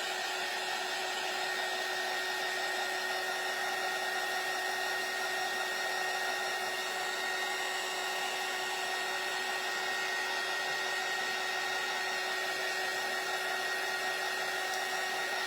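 A hair dryer blows steadily on freshly sponge-painted craft letters for a door hanger, a loud, unbroken close whoosh with a constant whine that never varies.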